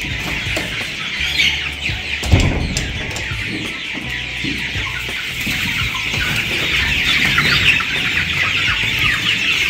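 Chickens cluck in a large coop pen, several birds close by making continuous overlapping clucks, with a brief thump midway.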